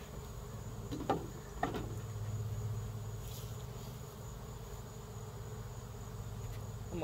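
Honeybees from an open-air colony hum in a steady, close buzz that fills the air continuously, with a couple of brief knocks near the start.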